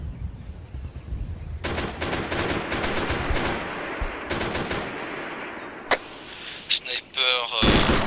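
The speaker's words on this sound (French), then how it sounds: "Tir de snipe en cours, hein." Gunfire from a sniper in the video game Arma 3: sharp shots crack in rapid clusters, some echoing, with a few distant reports and a closing burst over a steady background rumble.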